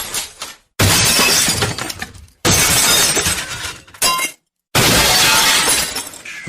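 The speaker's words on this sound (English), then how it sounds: "He smashed in through the window." Loud, close smashing of a glass window: several violent crashes of shattering glass separated by brief silences, each burst full of bright tinkling debris.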